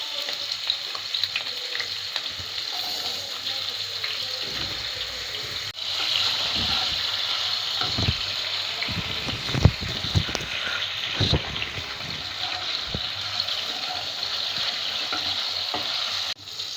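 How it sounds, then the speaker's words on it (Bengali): Potatoes fry in oil in a pan with a steady, close sizzle, broken by occasional stirring knocks and scrapes of a spatula against the pan; no voices. "প্রথম আলুটা আমি ভেজে নিচ্ছি।"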